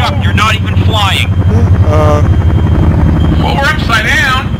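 A military helicopter in the game Arma 3 drones with a low, continuous rotor and engine rumble beneath loud, excited voices talking over it for the whole stretch.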